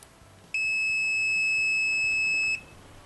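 A KAIWEETS KM201 smart multimeter sounds its continuity-test beep: one steady, clear electronic tone lasting about two seconds, close and loud, then cutting off sharply over a quiet background.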